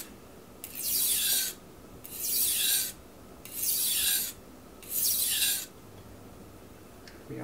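A knife is sharpened on a Miyagoshi sharpening stone in four evenly spaced, long gritty strokes, each a bright rasping scrape about a second long, separated by brief pauses of quiet.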